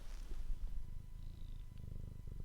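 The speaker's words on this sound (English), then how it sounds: "It's purring." A cat purrs up close, a soft continuous low rumble pulsing with each breath, with no one talking.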